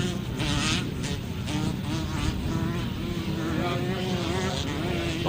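Four-stroke motorcycle engines racing at a grasstrack meeting, a continuous buzzing drone from several bikes at a distance, with a crowd-level background and no clear talk.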